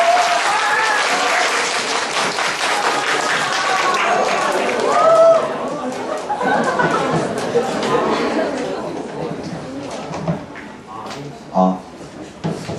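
Audience applause at a school fusion concert fills the opening seconds, dense and fairly loud, then gradually thins out as a young presenter begins talking over the fading clapping and crowd murmur.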